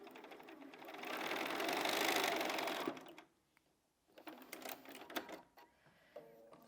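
A sewing machine stitches a scrappy pineapple quilt block in one steady burst of about three seconds, then stops, followed by a few soft handling clicks and rustles of fabric close by.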